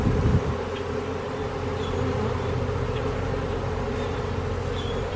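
A swarm of thousands of honey bees in a backyard, a dense continuous buzzing drone that stays steady and fairly loud throughout, with a brief louder rustle near the start.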